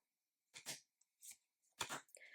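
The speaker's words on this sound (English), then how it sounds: "This deck is large and glossy, and I love the way it shuffles" A large, glossy tarot deck is shuffled in a few quick riffling bursts separated by brief pauses, with a softer card-handling rustle at the end, close and clear with no talking.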